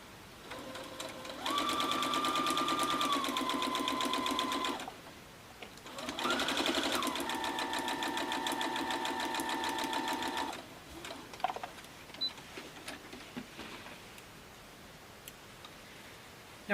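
A sewing machine stitching quilt pieces runs in two bursts of rapid, steady whirring, then stops, leaving light clicks and handling noises; close and moderately quiet.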